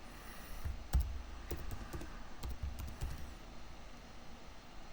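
Typing on a computer keyboard while entering an admin password: scattered, irregular key clicks, quiet and close, with no talking.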